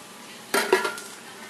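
Diced tomatoes for taco soup are dumped into a pot in one brief wet slosh with a metallic clank of the can or spoon against the rim, close, over a quiet background.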